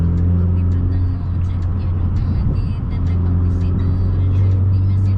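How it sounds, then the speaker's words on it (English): A car engine idling while warming up after a Powermetric stage 1 tune, a steady low hum with a faint whir, heard up close with a voice talking over it. "I'm waiting for the car to warm up so I could do a pull"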